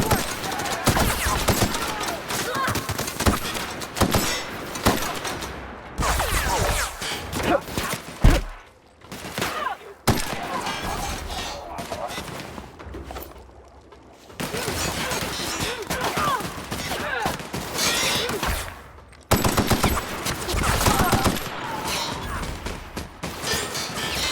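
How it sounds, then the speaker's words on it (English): Rapid gunfire from a firefight in the video game The Outer Worlds, dense volleys of shots and automatic bursts close by, with brief lulls and faint game voices mixed in. "Returning fire!"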